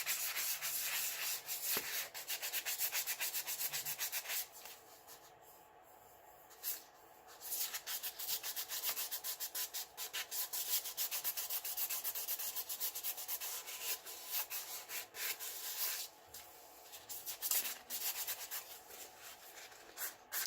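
Sandpaper rubs over cured epoxy on a glitter tumbler, a steady, close scratchy hiss running almost continuously with brief easing and bursts of stroke noise; no talking.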